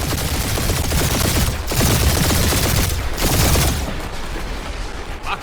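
Automated turrets in the Guardians of the Galaxy video game unleash a loud, continuous fusillade of rapid machine-gun bursts, with dense overlapping shots that swell and ease in waves through a heated space battle.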